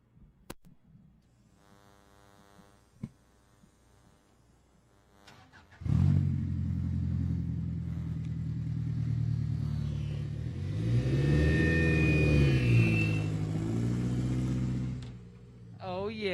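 A Class 10 off-road race car with a 2.4 Ecotec engine rumbles at a steady idle at a Baja 1000 desert race, loud and close, rising briefly in pitch before cutting off, after a quiet stretch at the start.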